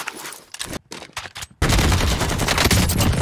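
Gunfire from Rambo-style guns in Call of Duty Black Ops Cold War, starting with a few scattered shots and then breaking into a loud, sustained rapid-fire burst that runs to the end.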